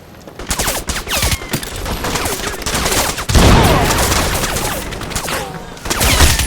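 Dense, sustained gunfire from the video game Crysis Remastered, with rapid overlapping automatic bursts and sharp shots filling the whole stretch at close range, growing heavier toward the end.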